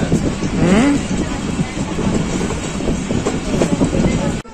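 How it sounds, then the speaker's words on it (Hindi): A Pakistan Railways Karakoram Express hauled by a GEU locomotive rumbles past close by, with a steady loud roar and wheel clatter throughout and a brief voice early on. "42 डाउन कराकोरम एक्सप्रेस के साथ GEU 40 9023 लीड कर रहा है।"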